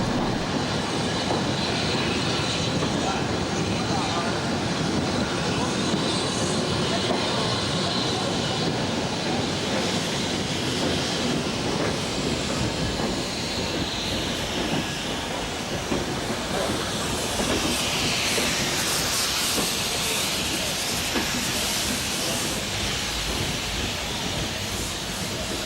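A Black 5 steam locomotive waits at Bury Bolton Street station on the East Lancashire Railway, filling the platform with a loud, continuous roar of steam and hiss that swells toward the end.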